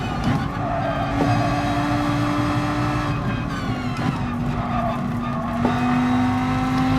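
A Group 4 Lamborghini Huracán race car in Gran Turismo Sport roars steadily at high revs at the Goodwood circuit, its engine pitch shifting with gear changes while faint tire scrubbing hints at a slide off track.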